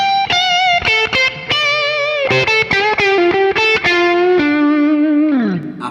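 Distorted electric guitar plays a blues lick, bright sustained notes with quick bends and rapid picked runs, ending on a long held note that slides down.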